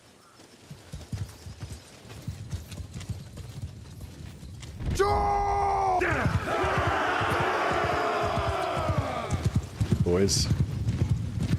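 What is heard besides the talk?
horses of mounted troops in a video game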